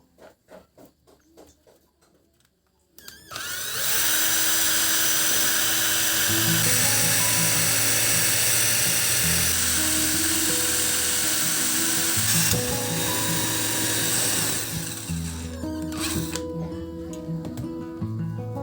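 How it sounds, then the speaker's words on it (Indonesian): A drill bores holes into an amplifier box after a few soft handling taps: a loud, close, whining drone runs steadily for about twelve seconds, shifting pitch as the load changes, then winds down. "Setelah semua titik ditandai, saya melanjutkan ke proses pengeboran."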